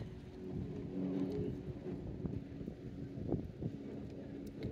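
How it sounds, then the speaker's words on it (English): Strong wind gusting at seaside rock pools, a steady rumbling buffet across the microphone with occasional louder gusts, no talking. "Not easy to film in this wind as well. It's really windy."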